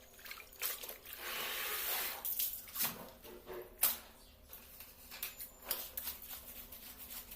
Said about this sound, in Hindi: इनमें थोड़ा सा पानी डाल के पहले सरफ घुमा रही हूँ थोड़ा सा हाथ से ही